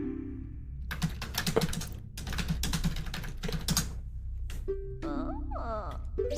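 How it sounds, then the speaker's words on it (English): Rapid computer keyboard typing while notes are taken during a Majora's Mask randomizer game, in close clattering bursts broken by short pauses, followed by melodic in-game chimes and tones near the end. "you might hear me typing on the side"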